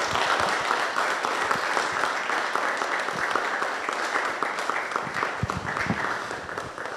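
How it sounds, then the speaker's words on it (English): An audience at a Father's Day celebration gives a round of applause, with dense, steady clapping that fills all seven seconds at an even level and no speech over it. "let's give ourselves a round of applause"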